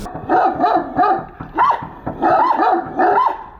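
Stray dogs bark loudly and close in quick repeated bursts, several yelping barks in a row with short gaps, and no one speaks.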